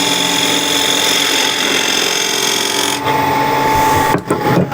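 A skew chisel undercuts wood on a spinning lathe with a steady, loud whirring scrape that holds evenly, then breaks up into a few rough catches near the end.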